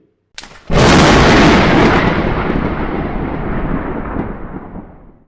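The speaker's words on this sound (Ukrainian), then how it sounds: "Коли чуємо звуки грози, що з'являється на небі?" A sudden loud thunderclap bursts out and rolls into a long, gradually fading rumble that lingers for several seconds.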